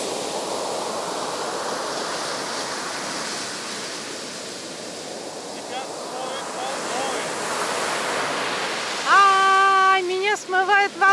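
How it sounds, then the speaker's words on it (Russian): Sea waves break and wash up a beach in a steady, loud roar with surges of surf, and a voice calls out briefly near the end. "Ай, меня смывает волной."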